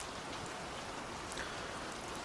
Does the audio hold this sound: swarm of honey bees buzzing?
no